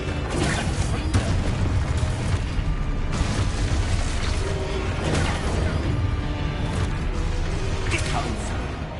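Confringo fire spell explosions in Hogwarts Legacy, repeated bursts and booms layered over constant combat clatter, loud and close, with a voice shouting spell names through the fight.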